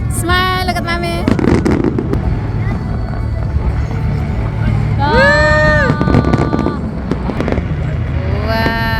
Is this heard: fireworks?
yes